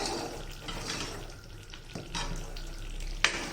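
Tomato pickle frying and being stirred in a pan, with a steady soft sizzle, occasional scraping strokes of the spoon and a small clink near the end, fairly quiet with no talking.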